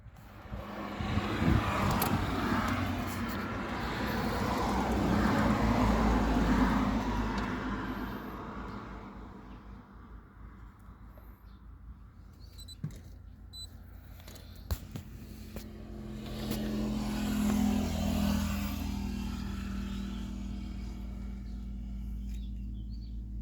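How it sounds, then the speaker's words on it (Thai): Isuzu D-Max diesel engine idling with a fault that makes it surge, the rumble swelling and sinking in slow waves, with a few sharp clicks between the swells. "อาการ เครื่องยนต์สวิง ตอนเดินเบา เร่งไม่ดี วิ่งไม่ออก"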